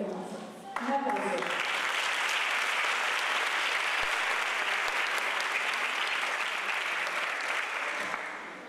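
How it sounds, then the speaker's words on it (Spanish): Audience applause fills a hall at a municipal music academy's closing ceremony, a sustained, dense wash of many hands clapping that swells after a brief start and holds steady for several seconds at moderate loudness. "Un aplauso."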